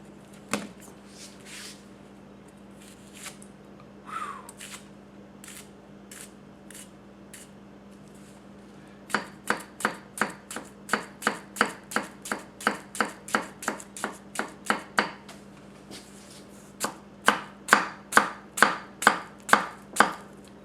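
A Masakage Shimo gyuto knife chops an onion one-handed on a cutting board, giving sharp, close knocks that are sparse at first, then turn into fast, even runs of chopping, with no talking.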